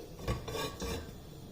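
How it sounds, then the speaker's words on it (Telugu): A metal pressure cooker is set down on a stovetop, giving a few close, dull clanks and scraping rubs of metal on metal, quiet and brief with no talking. "ముందుగా స్టవ్ మీద బాండ్లీ పెట్టుకుని కుక్కర్ పెట్టుకుని నేను కుక్కర్లో చేస్తున్నాను"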